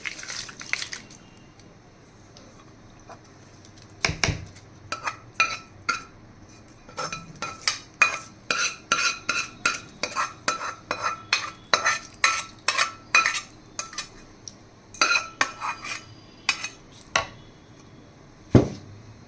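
A spoon stirs ginger chutney with jaggery and a tempering of garlic, curry leaves, dried red chillies and mustard seeds in a pot. A quiet start gives way to a long run of rhythmic metallic scrapes and clinks, close up and without speech.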